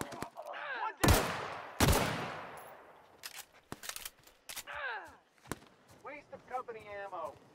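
Gunfire in the sci-fi video game The Outer Worlds: two loud sharp shots with decaying tails, followed by scattered quieter pops and hits amid game creature noises and effects.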